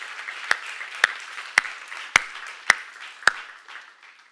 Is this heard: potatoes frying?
no